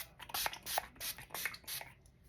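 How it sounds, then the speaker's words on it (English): Several quick hissing bursts of a makeup finishing spray bottle, evenly spaced and fairly faint, with soft handling noises between them. "now I'm gonna just spray a couple of sprays of our finishing spray"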